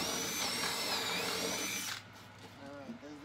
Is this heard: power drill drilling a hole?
yes